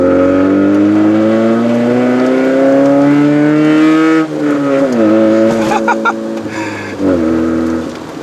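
A 2005 Proton Satria 1.3 GLi SE with a five-speed manual gearbox accelerates on a rainy test drive, its engine note rising steadily from inside the cabin, then dropping at gear changes before climbing again, loud and continuous.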